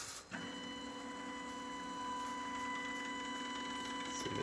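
An Ender 3 3D printer running a print job, its stepper motors giving a steady whining hum with several sustained tones that shift slightly in pitch and hold on without pause.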